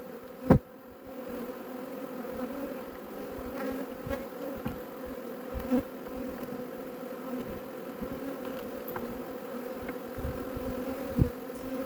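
Honey bees buzz steadily around an open hive being sampled for foulbrood, a continuous close hum with scattered bees passing near and occasional soft knocks.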